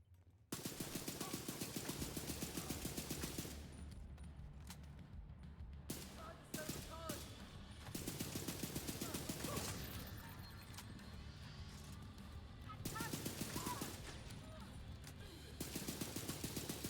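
Bursts of rapid ACR assault rifle fire in The Division 2 come in several loud, sustained automatic strings separated by short pauses, with someone talking between and over the shooting.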